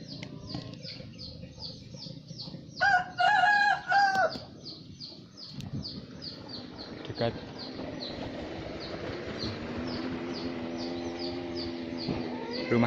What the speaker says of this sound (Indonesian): Halo, itu ada ayam.